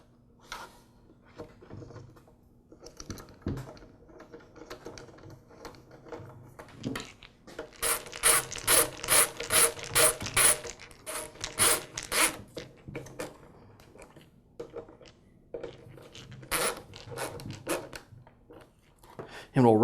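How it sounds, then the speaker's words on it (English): Fasteners being tightened to hold a leaf blower's carburetor and air filter base onto the motor, heard as a burst of quick, rapid ratcheting clicks in the middle with scattered handling knocks and rattles before and after, close and fairly quiet. "Now I'll reinstall the air filter base and secure the carburetor"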